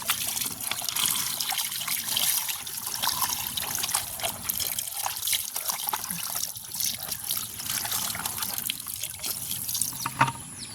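Water runs steadily from a tap while pond fish are washed, a continuous close splashing and trickling with small clatters of handling throughout.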